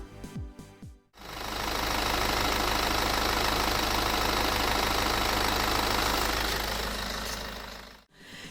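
The 20d diesel engine of a 2019 BMW 320d G20 idles with the bonnet open, a loud steady clattering diesel rumble that starts abruptly after a brief noise and cuts off near the end.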